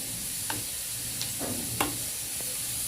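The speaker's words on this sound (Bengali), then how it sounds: "তো আলু ভাজা করছি আর দুটো পাঁপড় ভেজে নেব" Potatoes fry in mustard oil and butter in a pan, a steady close sizzle with a few light clinks of a stirring spoon, no voices.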